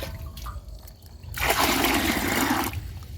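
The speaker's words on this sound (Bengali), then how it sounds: "আমি ডবল দিচ্ছি আট লিটার জল দিচ্ছি" About eight liters of water pour into a container to soak boro paddy seeds: a close, splashing gush of about a second that follows quieter background sounds, then stops.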